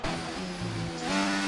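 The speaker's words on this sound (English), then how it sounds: "You can just hear the car scream." A racing car engine in a Japan race screams at high revs, loud and sustained, with a gear change partway through and the pitch climbing again, and no talk over it.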